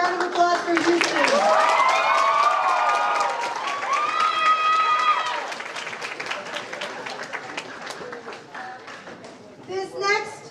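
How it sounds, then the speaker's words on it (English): Crowd applause at an awards night honoring a Houston region, steady clapping mixed with cheers and excited shouts from children and adults, loud at first and gradually thinning out toward the end. "Let's give a round of applause for Houston."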